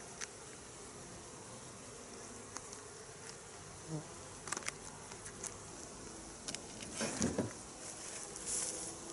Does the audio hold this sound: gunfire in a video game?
no